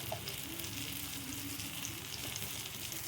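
Garam masala, coriander and cumin powders sizzle steadily in a pan for a prawn and potato curry, a close, even frying hiss with no talk.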